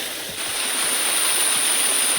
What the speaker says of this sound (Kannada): ಇಲ್ಲಿಂದ ಸಹ ನೀರು ಬರ್ತದೆ, ಇಲ್ಲಿಂದ ಸಹ ನೀರು ಬರ್ತದೆ, ಎಲ್ಲ ನೀರು ಬಂದು ಹೀಗೆ ಹೋಗುದು.